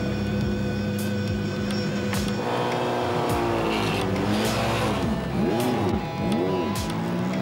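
A Formula Renault single-seater race car on a circuit, its engine loud and steady with rising and falling revs as it works through gears, close and continuous with no talk.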